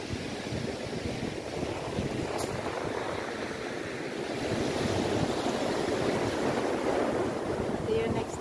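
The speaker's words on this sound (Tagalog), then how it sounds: "Alon." Sea waves wash onto a beach near a seaside cottage, a continuous rushing surf with wind buffeting the microphone, steady and fairly loud, swelling slightly in the second half.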